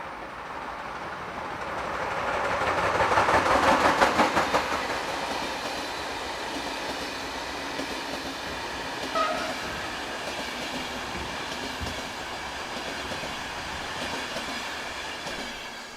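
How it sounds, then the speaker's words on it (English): A Vectron electric locomotive, number 193291, hauls a Budapest to Prague passenger train past at close range, a steady rumble with rhythmic wheel clatter and a swell of noise as it goes by, with no voices. "Vectron number 193291 passes with a Budapest to Prague passenger service"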